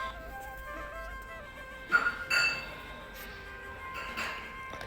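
Glass is broken in Kutch to make small mirror pieces for embroidery work, giving a few sharp, close clinks and chinks spaced apart over a faint tonal background.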